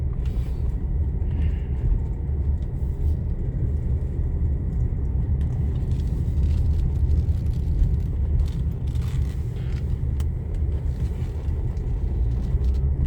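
A car rolls slowly through Fort Custer National Cemetery, giving a steady low engine and tyre rumble throughout, with faint background noises and no speech.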